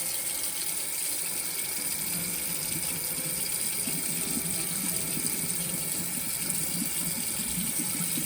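Tap water runs steadily into a kitchen sink as seeds are rinsed out of chile peppers, a constant close splashing rush with faint shifting under the stream.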